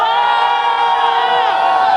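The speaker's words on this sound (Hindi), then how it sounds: "वो लोग चिल्लाएंगे।" Wedding guests at a Marwari sangeet ceremony shout and cheer together in a loud, sustained roar of voices and whoops that fills the whole stretch without a break.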